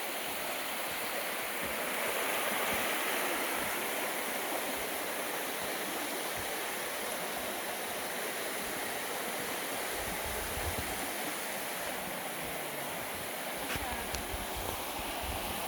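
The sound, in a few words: waterfall and stream at Panther Creek, North Georgia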